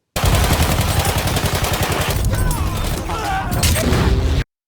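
Rapid machine gun fire from the World War I shooter Battlefield 1, loud and sustained bursts with dense, rattling rhythm, joined midway by other shots and mechanical clatter before cutting off abruptly.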